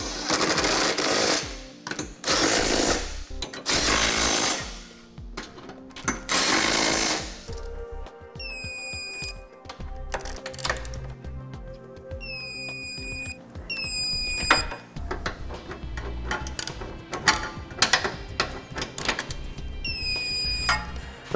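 Power tool torquing trailer hitch fasteners during installation of a CURT custom-fit receiver on a 2009 Toyota Corolla, with loud buzzing bursts early on, then lighter intermittent mechanical clatter and whirring with beeping tones.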